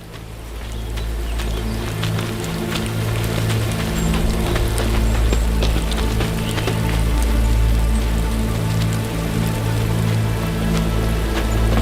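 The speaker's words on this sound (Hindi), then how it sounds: "जनाब, बारिश हो रही है, निशान मिट जाएंगे।" Steady rain falls over a continuous low hum and rumble, a dense, even patter of drops that stays loud and unbroken throughout with no voices.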